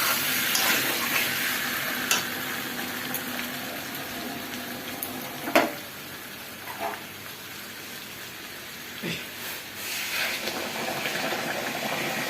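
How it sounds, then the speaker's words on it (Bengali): Hot water poured into mutton curry frying in a pan, giving a steady broadband hiss and sizzle throughout, with a few brief louder spits and bubbles standing out from the continuous wash of sound. "গরম জলটা দিই।"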